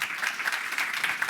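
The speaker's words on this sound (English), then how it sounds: "I think that's the first time you've ever gotten a round of applause" A crowded audience applauds in a dense, steady round of clapping that fills the moment without any talk over it.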